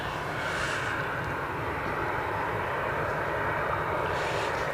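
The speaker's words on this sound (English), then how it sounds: "Really going to wrap it up with the departure of the Qatar Airways A350." A Qatar Airways Airbus A350 departs Edinburgh airport, its engines a steady, broad distant roar that holds evenly throughout with no voices.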